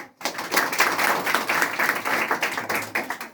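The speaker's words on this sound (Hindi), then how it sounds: "तो बच्चे हम लोग अरस्तु के लिए ताली बजा दें" Children in a classroom clap together, a dense, steady patter of many small hands close by that starts abruptly and carries on evenly.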